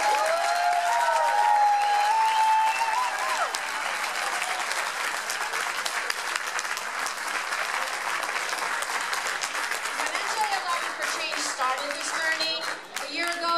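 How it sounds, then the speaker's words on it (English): An audience at a district candidates forum gives the candidates a sustained round of applause, a dense, even wash of many hands clapping that holds steady and fades near the end, with a brief voice at the start. "Can we get a, a round of applause for our candidates?"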